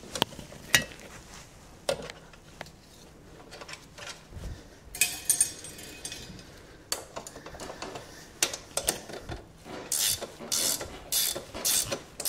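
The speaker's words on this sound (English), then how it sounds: "Tighten the back wheel back up." The back wheel of a Yamasaki F series motorcycle is tightened with a ratcheting wrench, giving close, clicky metallic bursts and short tool clatter, with pauses between the turns.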